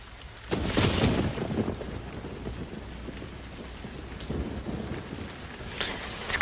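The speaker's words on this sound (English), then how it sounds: "it's raining." Soft, steady rain on a dark, hot night, with a louder rush near the start and faint patter continuing beneath.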